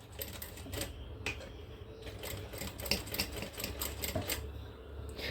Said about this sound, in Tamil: இப்போ தைக்கிறேன் பாருங்கள்.